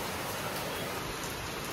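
Heavy evening rain pours down in a steady, dense hiss, loud and unbroken from start to finish with no voices.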